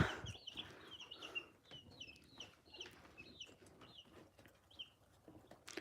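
Baby chicks and roosters cluck repeatedly in short, scattered calls, moderately near, over a faint, quiet background with no talking.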